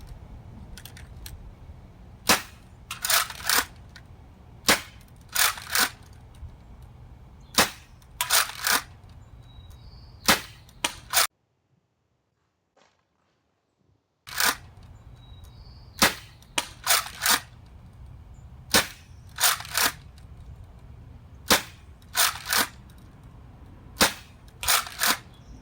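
An X-Shot Longshot toy blaster fires repeatedly outdoors at a target 75 feet away, giving sharp, snappy cracks in loose clusters with short gaps and a brief silent break partway through.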